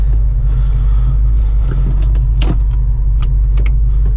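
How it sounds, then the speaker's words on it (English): A 1991 Ford Mustang LX 5.0 convertible with a five-speed drives at night. A steady, loud, low engine and road rumble fills the cabin, with a few faint clicks and rattles and no talking. "Let's go for a little nighttime drive here."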